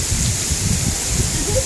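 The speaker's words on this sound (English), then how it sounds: "I love the rain." Heavy rain pours steadily during a windstorm, a loud, dense hiss with no breaks and no voices.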